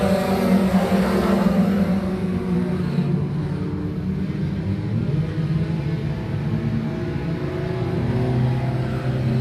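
Race cars roaring around the Can-Am Speedway oval after a green-flag restart, a loud steady engine rumble with slight swells as the pack passes, with no voices over it.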